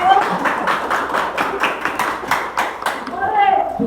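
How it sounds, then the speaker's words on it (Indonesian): A small classroom group claps for a presenting team in a teacher-training session: sparse, uneven handclaps in a quick rhythm, close by, with a brief voice heard near the end. "Tepuk tangan buat kelompok C."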